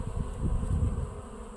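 Low buzzing of honeybees carrying the first pollen, close by, a steady droning hum with slight fluctuations and a light background hiss.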